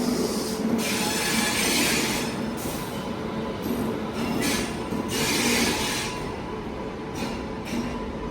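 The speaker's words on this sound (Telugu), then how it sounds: "ఇటువైపు ప్లాట్ఫామ్లోకి ఏదో బండి వస్తుంది, చూద్దాం." The Basava Express train rolls into a station platform, giving a loud sustained rumble with high metallic wheel squeals that rise and fall repeatedly as the train arrives.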